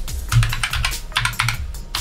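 Fast, irregular run of key presses on an HK GK61 mechanical keyboard while a macro is being recorded, loud and close with no talking.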